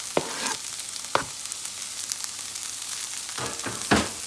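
Green onions being mixed into a frying pan for a Guyanese breakfast: a soft, steady sizzle runs beneath a few sharp scrapes of a utensil against the pan, with no talking.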